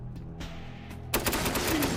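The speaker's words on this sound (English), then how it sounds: "I like this fast gun. Fast shooting gun is a good gun." A fast-firing gun in a video game opens up with a rapid burst after a brief low hum, quick repeated shots filling the last second.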